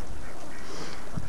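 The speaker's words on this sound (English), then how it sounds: "I'm just looking around for some of my favorite ducks." Ducks at a pond, with a short burst of quacking near the end over steady outdoor background noise.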